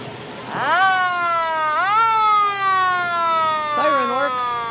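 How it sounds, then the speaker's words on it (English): A siren on a military vehicle wails loud and close during a Memorial Day parade, rising sharply and sliding down in long sweeps, then warbling briefly near the end. "Siren works."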